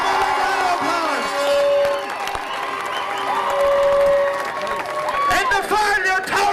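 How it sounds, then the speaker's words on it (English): Crowd at a 2008 county final applauding and cheering as players are introduced on stage, a steady wash of clapping with whoops throughout, while an announcer's voice carries over the top. "Come on, applause!"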